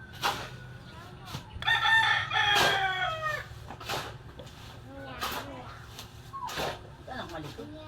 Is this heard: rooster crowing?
yes